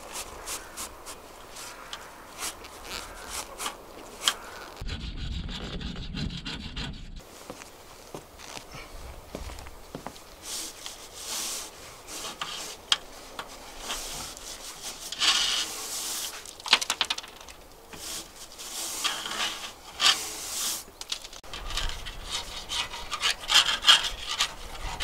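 A brush is pushed down a narrowboat stove's flue pipe during cleaning, making irregular scraping and rasping strokes with knocks and shuffles, fairly faint and uneven throughout.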